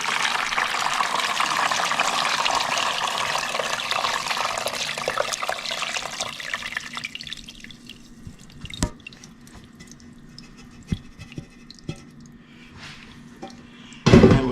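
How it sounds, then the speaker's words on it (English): Pressure-cooked oxtail juices poured through a strainer: steady splashing, trickling liquid that thins into scattered drips and small clinks, with a sharp knock at the very end. "we're gonna go ahead and strain all we only want the juice and stuff, so we're gonna strain everything out."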